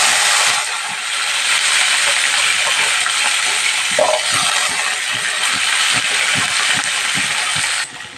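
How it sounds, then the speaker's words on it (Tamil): Small shallots fry in hot oil, a loud dense crackling sizzle that holds steady throughout, with a faint tap of a utensil partway through and a slight drop at the end. "வெங்காயம் நல்லா வதங்கி வரட்டும்."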